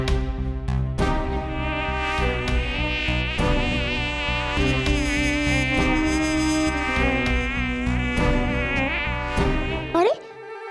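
Mosquitoes buzz around Manav and Mehar as they are bitten in a fantasy TV drama scene. The buzzing is loud and continuous with a wavering whine over a dense backdrop, lasting about ten seconds before cutting off abruptly.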